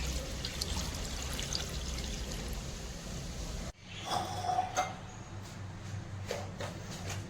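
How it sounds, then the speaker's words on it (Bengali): Water from washing rice poured out of a pot into a sink during home cooking, a steady splashing pour that cuts off abruptly midway, followed by a few faint drips and trickles. "তো জলটা ফেলে দিই।"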